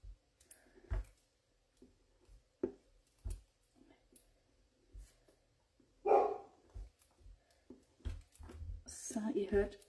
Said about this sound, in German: ihr hört wahrscheinlich im Hintergrund die Hunde bellen